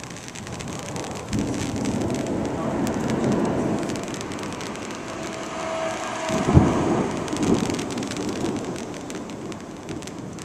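Steady rain pours during a thunderstorm in the Black Hills of South Dakota, a dense close hiss throughout with a brief sharper burst midway, no voices.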